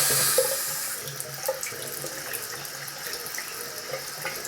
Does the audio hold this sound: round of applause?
no